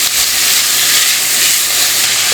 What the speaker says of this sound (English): are going to add 1 medium onion that has been chopped